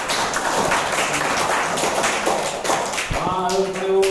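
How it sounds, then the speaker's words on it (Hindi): Schoolchildren in a classroom clap together in a quick burst of brisk, scattered hand claps, then it tapers off as a voice speaks briefly at the end. "ताली बजाओ"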